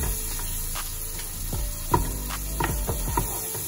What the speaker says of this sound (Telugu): ఈ ఆనియన్స్ బ్రౌన్ కలర్ అవ్వే వరకు ఫ్రై చేసుకోవాలి, లైట్ బ్రౌన్ కలర్ అవ్వాలి